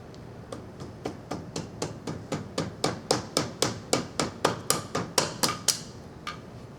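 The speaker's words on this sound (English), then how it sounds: "I should be able to grab a plastic hammer and lightly tap" A plastic hammer makes a steady series of light, sharp taps on a piston, about twenty in a row, getting a little louder toward the end, close up with no talking.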